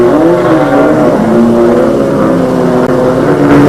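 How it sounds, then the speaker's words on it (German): A 1981 Audi Coupé race car roars loudly and steadily close by during a championship run, its engine note holding a strong, sustained drone with slight pitch shifts and no talk. "Nummer 91 Heinrich Walzer auf einem Audi Coupé"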